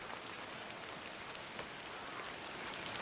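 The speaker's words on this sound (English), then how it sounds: "It would seem you don't find the rain quite as romantic as I do." Steady rain falls throughout in the video game The Excavation of Hob's Barrow, a constant soft hiss of drops on surfaces with no talk over it.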